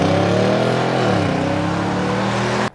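Nissan 5.6-liter V8 engine revving up and easing off, a loud, steady engine tone with pitch rising and then settling, close by, cutting off abruptly at the end.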